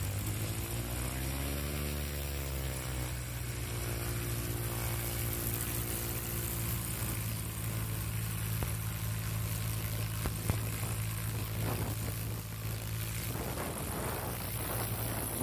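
An Aerobat STOL airplane's propeller engine during practice in Sulphur Springs, a steady loud drone with the pitch rising early and holding, plus some scattered clicks and wind noise later on.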